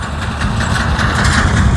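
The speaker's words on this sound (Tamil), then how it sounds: "பாருங்கள் நெல் கொட்டுறது பாருங்கள்" A tractor engine idles close by, loud and steady with a low rumble, as harvested kuruvai paddy is unloaded during the harvest in Nagapattinam district; no one speaks.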